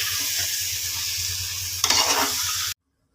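Chicken pieces for biryani sizzle and fry steadily in a pan, with a louder burst of hissing and stirring near the end before the sound cuts out abruptly.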